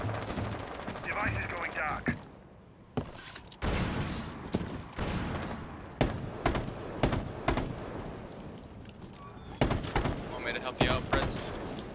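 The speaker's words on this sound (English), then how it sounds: "I'm just free firing shit" Video-game gunfire in rapid, sprayed automatic bursts, loud and close, with sharp individual shots punctuating the stretches between, while a voice talks over the shooting.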